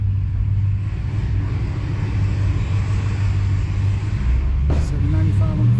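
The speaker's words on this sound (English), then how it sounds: "Gentlemen, here we go for the second dyno pull" A Dodge Hellcat built toward 1,000 horsepower runs on a chassis dyno for its second pull, making a loud, sustained low engine rumble that holds nearly constant for several seconds, with a brief sharper burst near the end.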